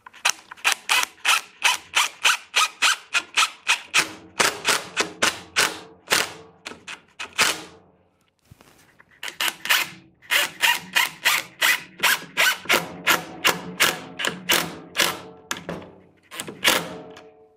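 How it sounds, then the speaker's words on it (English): Bugle head, coarse thread phosphate screws are driven into drywall by a power driver, giving rapid, evenly spaced sharp clicking bursts in two long runs with a brief pause between, close and clear. "I'm going to go ahead and install the drywall first using our bugle head, coarse thread, phosphate screws."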